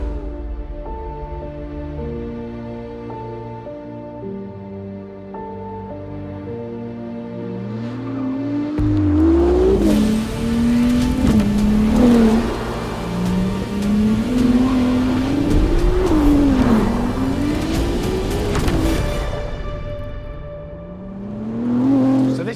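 Ferrari 296 Speciale A sports car accelerating hard as its engine climbs through several rising revs and gear changes, loud and sustained, while music plays beneath.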